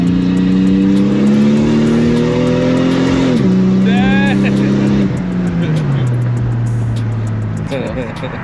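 A car engine revs loudly through its exhaust, pitch climbing and dropping in rough surges, with voices talking over it.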